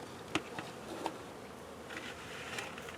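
Honeybees buzzing at a hive during winter dry-sugar feeding, a faint, close hum with a few brief louder passes as individual bees fly near.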